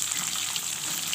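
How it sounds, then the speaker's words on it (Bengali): Tomatoes fry for vegetarian ghugni in a pan, giving a dense, even, close-up sizzle that holds steady with no voices over it. "দেখো টমেটোটা এবার ভালোভাবে ভেজে নেব এর সঙ্গে"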